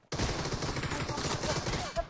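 Rapid automatic Groza rifle fire in PUBG Mobile, a dense sustained burst of close, loud shots running almost two seconds before cutting off.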